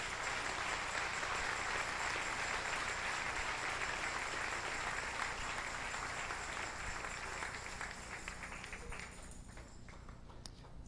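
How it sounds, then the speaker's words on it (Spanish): A church congregation applauds together in a broad, steady wash of clapping that holds for about ten seconds, then thins and fades away. "Dale un aplauso al Señor en esta linda mañana."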